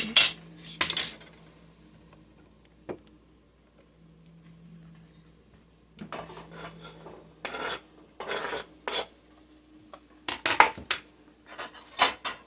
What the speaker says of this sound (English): we're going to get that into our pot